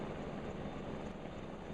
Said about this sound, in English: Here is a large yellow medical helicopter hovering.